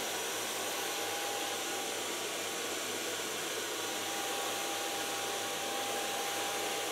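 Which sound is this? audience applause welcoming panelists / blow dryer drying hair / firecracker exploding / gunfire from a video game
blow dryer drying hair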